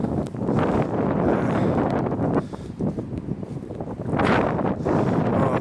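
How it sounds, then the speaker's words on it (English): Strong wind roars and buffets a microphone by the river at Cambuskenneth, Stirling, Scotland, rising and falling in heavy gusts with no other clear sounds. "It's bloody windy, actually"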